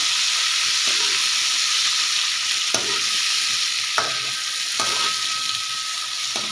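Chicken pieces fry in a pan for Punjabi-style chicken karahi, producing a loud, continuous hissing sizzle, broken by a few soft utensil taps and clinks at irregular intervals.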